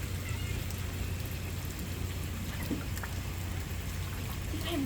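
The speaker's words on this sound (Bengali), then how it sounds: "তারপরে আবার শিল পড়ছে।" Rain and hail fall steadily on a garden during a short storm, a continuous close hiss with scattered harder ticks running throughout.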